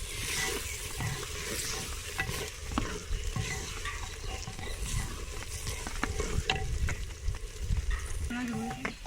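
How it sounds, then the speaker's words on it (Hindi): Green chilies fry with green chickpeas in a pan, making a steady, dense sizzle broken by repeated scraping stirs that run close and loud throughout. "अब इसमें शामिल करते हैं सब्ज़ मिर्चें। 2 मिनट इसको फिर भूनते हैं।"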